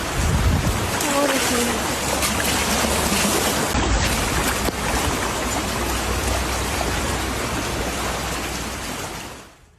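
Heavy rain pours during flooding in Istiaia, Evia, Greece, a dense, constant rush of falling water and running flow that stays loud and steady before fading at the end.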